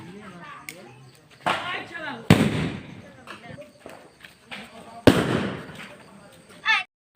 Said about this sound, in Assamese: অলপ বোমাটো মাৰোঁ চাই থাকক